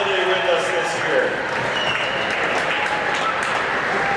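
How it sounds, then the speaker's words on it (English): A crowd applauds after a youth ice hockey championship in steady, dense clapping that carries on throughout, with an indoor arena echo and a faint murmur of voices underneath. "let's have a round of applause for these two teams on a fabulous weekend"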